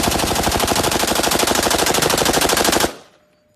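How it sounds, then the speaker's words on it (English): A squad automatic weapon (SAW) machine gun fires one sustained, very loud burst of rapid, evenly spaced shots for nearly three seconds, then stops abruptly into a short fading echo. "This is a squad automatic weapon, also known as the saw!"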